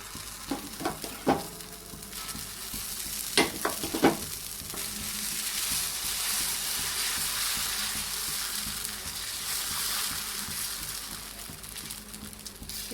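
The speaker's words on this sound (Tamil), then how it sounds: "வாங்க இப்போ தோசை எப்படி ஊற்றுறதுன்றதை நான் காமிக்கிறேன் வந்து நம்ம தோசை ஊற்றிக்கலாம்" Oats dosa batter hits a hot pan with a few clattering taps of the ladle, then a steady, broad sizzle fills the kitchen and holds evenly, nearby and moderately loud, with no one speaking.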